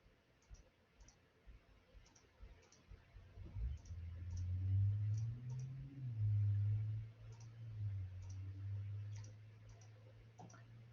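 Mouse clicks on check boxes at a computer, a run of faint, evenly spaced light ticks continuing throughout over a low steady hum, with no talk.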